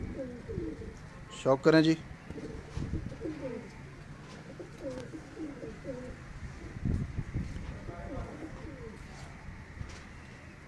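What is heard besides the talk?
pigeons cooing on a rooftop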